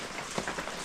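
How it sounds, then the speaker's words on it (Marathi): Heavy monsoon rain falling on a Konkan village, a brief, dense patter of drops heard faint and steady, with no voices. "3 दिवस झाले पाऊस चालूच आहे"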